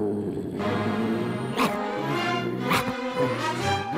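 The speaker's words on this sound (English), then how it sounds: "Is this a dog? He's a very fine dog" The cartoon dog Pluto barks at a society dog show, two sharp bursts standing out over a continuous music score.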